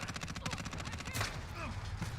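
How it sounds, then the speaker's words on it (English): Rapid video-game gunfire with explosions, a dense stream of sharp shots, then a broad blast near the middle, loud and continuous. "Oh my god, so many explosions."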